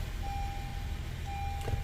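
A Honda Accord in reverse gives off a steady electronic chime, a thin sustained tone that pauses briefly and resumes, over a low idling engine hum inside the car, with no one talking.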